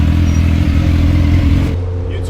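A motorcycle engine revs hard at close range, a steady low throbbing drone that eases off near the end, with a roadside police stop involving bikers.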